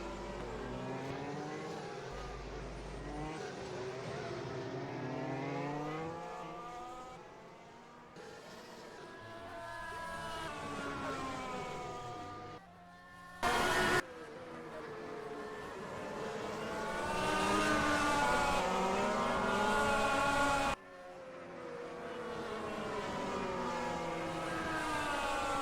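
Race cars in an rFactor 2 sim race at the Spain round of an Italian championship. Several engines rev and shift in turn as cars lap together, with one abrupt loud burst partway through.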